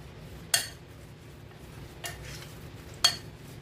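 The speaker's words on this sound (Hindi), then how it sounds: "और 1/2 चम्मच ही गरम मसाला, थोड़ा सा हरा धनिया। इन सबको मिक्स कर लेते हैं।" A spoon clinks against a bowl three separate times while garam masala and chopped green coriander are mixed into a corn lollipop mixture, each tap sharp and close over a quiet background.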